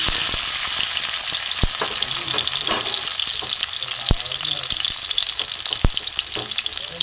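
Chopped tomato sizzling steadily in oil in a very hot kadai, a dense continuous frying hiss close by with a few sharp clinks of a spatula against the pan, no voices.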